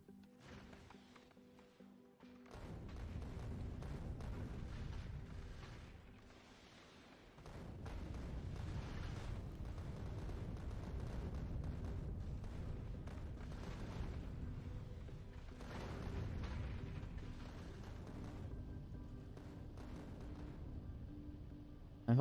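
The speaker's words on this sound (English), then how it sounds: "I'm faster than ever flying to Aquilo, throwing rockets at asteroids." Rockets fired at asteroids in Factorio: Space Age, heard as a sustained low rumbling roar of repeated explosions that swells, dips briefly, then continues steadily, fairly muffled and distant.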